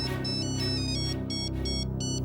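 A phone ringtone plays steadily and loudly, a bright electronic melody repeating in short pulses with no voices.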